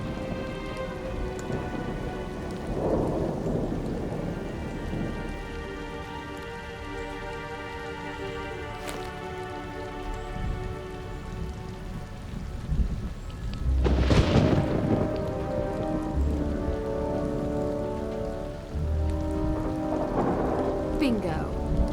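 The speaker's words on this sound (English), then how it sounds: "Man, this storm is bad." Rain falls steadily in a Nancy Drew video game storm scene while thunder rumbles in long, heavy rolls, with a sharp crack near the middle; a game soundtrack's sustained tones sit underneath, no voices.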